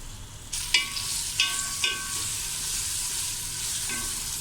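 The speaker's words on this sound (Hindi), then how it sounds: "मैं देखिए ये प्याज को मैं ब्राउन कर लूँगी, लाइट सा ब्राउन कर लूँगी।" Onions frying in about a cup of oil in a deep pan, browning lightly, with a constant close sizzle and a few sharp clinks and scrapes from stirring.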